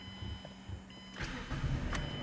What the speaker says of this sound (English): and the car started.